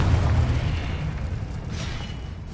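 A Confringo blasting spell exploding in a Harry Potter video game, heard as a single deep, rumbling boom that starts loud and decays slowly into a low roar, with no voices.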